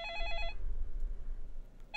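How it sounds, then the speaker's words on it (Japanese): A telephone bell in the video game Machi rings with a bright, trilling tone for about half a second, then stops, leaving a low rumbling ambience. "遠くで電話が鳴っている。"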